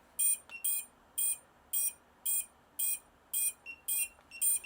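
A drone receiver binding to its transmitter emits a regular series of short, high-pitched electronic beeps, about two per second, loud and close against a quiet background.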